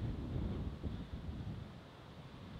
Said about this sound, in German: Ziemlich windig hier, ich hoffe, man versteht was.